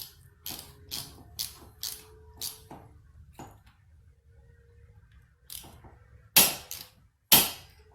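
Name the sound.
TPMS torque wrench tightening bolt to 40 inch-pounds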